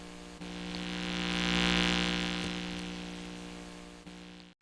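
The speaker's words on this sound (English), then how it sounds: "a microwave recorded with a piezo microphone at the back of the housing of the microwave generator." A steady electrical hum from a microwave oven's generator, picked up by a piezo contact microphone on the back of its housing, with strong buzzing harmonics that swell slightly and fade again before cutting off abruptly at the end.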